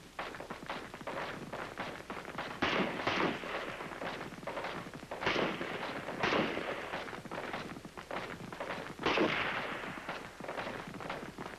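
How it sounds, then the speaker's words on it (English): Several slow-fire rounds from an M14 rifle fired in the sitting position, each shot a loud sharp crack standing out from steady background noise, spaced a few seconds apart. "In the sitting position, you get off several rounds of slow fire."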